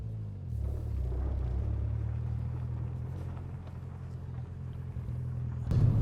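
2013-2014 Mini JCW GP driving off, a low steady engine rumble heard from inside the car, moderately quiet, with a brief louder surge at the end.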